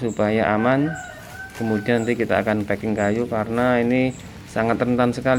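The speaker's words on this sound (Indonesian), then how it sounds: "Maaf, tadi ada ayam berkokok." A rooster crows faintly in the background during a wood-and-styrofoam packing job, its call running under steady, close talk that carries through the whole stretch.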